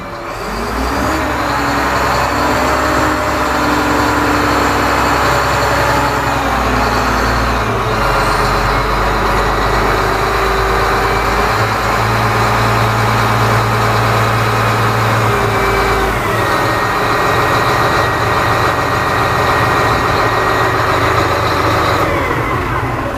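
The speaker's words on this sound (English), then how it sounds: "You can hear the Cummins engine straight away." A Cummins diesel engine idles steadily on a 2024 Godzilla 5500W loader, a loud, even, close rumble with a persistent hum and slight shifts in tone, no voices over it.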